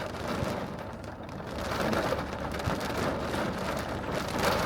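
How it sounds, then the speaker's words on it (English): Rain beginning during a thunderstorm, a dense steady hiss of drops hitting surfaces, fairly loud and continuous with no voices. "Man, it's starting to rain."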